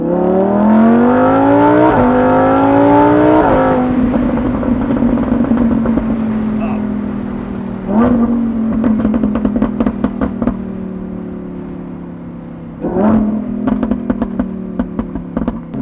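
A loud naturally aspirated V10 engine of a Lamborghini Huracan EVO Spyder in Corsa mode revs hard through several gears, its pitch climbing and dropping sharply at each shift, with crackles on the overrun.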